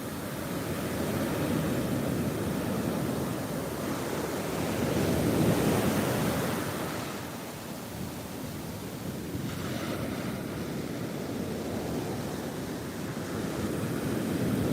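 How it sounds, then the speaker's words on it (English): Ocean waves break on a Gulf beach shore, a steady broad roar of surf that swells and eases in slow surges, with wind buffeting the microphone throughout and no voices. "Look at those waves."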